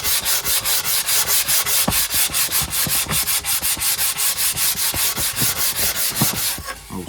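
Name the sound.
light hand sanding of a plywood piece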